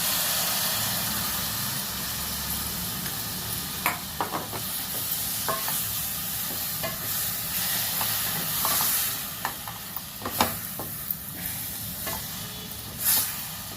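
Tomato pieces dropped into a hot pan with spiced oil for tomato rice, a continuous dense sizzle and hiss with scattered stirring scrapes and clicks throughout.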